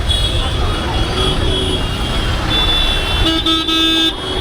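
Heavy road traffic at Tank Bund during the Ganesh immersion procession: a steady, dense rumble of vehicles fills the scene, and a loud, sustained car horn blares near the end.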